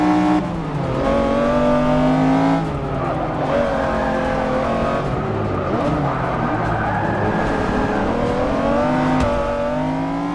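McLaren F1 race car engine in Forza 6, loud and close, holding a strong steady tone as it revs and shifts pitch through corners, with brief tire squeal and scraping mixed in.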